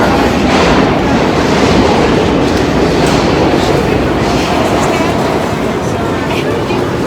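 Steady, loud rumble and rattle of a crowded night train interior while riding, with a constant wash of noise and indistinct murmuring throughout.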